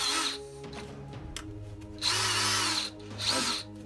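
A Dewalt XR DCD778D2T cordless drill whirs in short trigger bursts: a brief spin, a pause, a longer high whine, then another quick burst, close and loud, with no talking.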